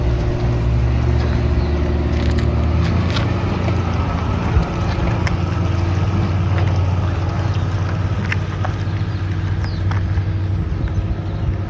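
A truck engine drones steadily throughout with road and wind rumble, loud and continuous, with occasional rattles and clicks over the constant low roar, driving on a road into Mexico toward Ensenada.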